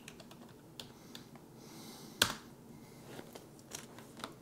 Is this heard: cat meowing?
no